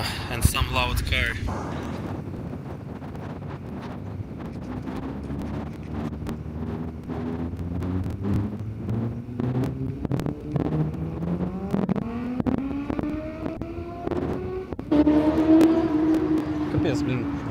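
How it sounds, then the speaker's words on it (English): Loud street racing car and motorbike passing close by, engine tones rising and sweeping upward over several seconds amid wind buffeting, with people talking over the roar. "Too loud. The car and the motorbike."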